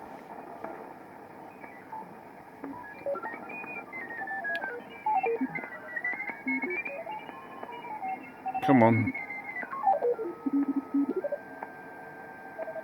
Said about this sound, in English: Okay, so there's a Morse code signal there.